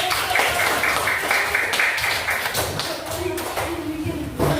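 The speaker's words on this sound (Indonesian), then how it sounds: "Beri tepuk tangan dulu." A class of children applauding after a group presentation, a dense, steady wash of many small hands clapping close by for several seconds with some talk mixed in.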